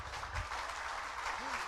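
An audience claps at a design conference, a faint, distant, steady patter of applause heard briefly with some room murmur.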